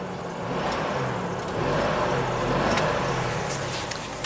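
A Jeep 4.0L engine with at least one dead cylinder revs up, giving a rough, uneven engine roar close by, with no talk over it.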